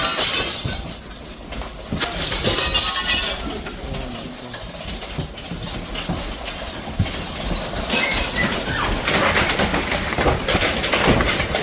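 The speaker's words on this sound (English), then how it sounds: "thousands of consecutive baseball-sized hailstones rained down, shattering glass windows" Baseball-sized hailstones pounding buildings in Nebraska, USA, a dense, continuous clatter of hard impacts with repeated bright bursts of shattering glass windows, loud and close throughout.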